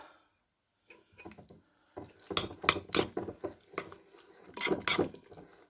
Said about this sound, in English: And I'm just gonna mix this about.